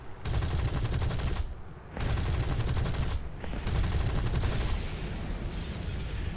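Aircraft machine guns strafe ground targets in War Thunder in three long, loud bursts of rapid, dense gunfire, separated by short pauses, with a lower rumble trailing after the last burst.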